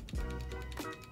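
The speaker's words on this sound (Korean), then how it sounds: "이렇게 좌우로 흔들면 이렇게 소리가 납니다" A Logitech G502 mouse is shaken side to side so its loosely mounted scroll wheel rattles, giving a brief, close burst of faint clattering ticks.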